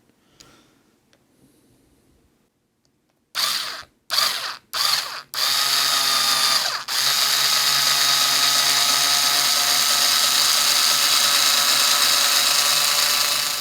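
A power drill bores a hole for a guitar strap button: a few short trigger bursts, then a long, steady, loud whirring run, heard close and without talk.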